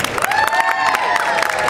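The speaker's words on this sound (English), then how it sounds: "spontaneous applause moment coming up" A street-show crowd at a British comedy juggling act claps loudly, with cheers and high whoops rising over the clapping in a short, close burst.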